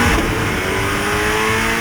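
Chevrolet Corvette C8 ZR1 engine revving hard in a short burst, a loud, steady, high-pitched mechanical roar that holds throughout with no voices over it.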